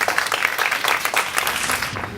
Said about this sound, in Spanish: recibimos a la doctora Arroyo Vargas con un aplauso